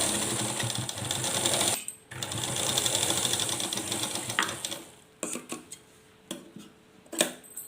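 Sewing machine stitching elastic onto a skirt waistband, whirring in a steady close run for several seconds, then sputtering in short stop-start bursts with faint clicks between; no talk.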